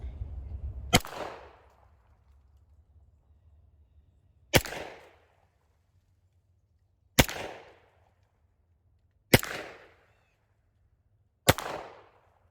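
9mm cast hollow point rounds fired from a Glock 17 outdoors, five sharp separate shots spaced a few seconds apart, each with a short decaying echo, faint wind rumble between them.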